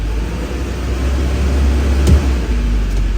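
A Duramax diesel pickup engine idles rough with fuel rail pressure problems and a suspected air leak, a loud, steady low drone with a slight surge near the end and no one speaking.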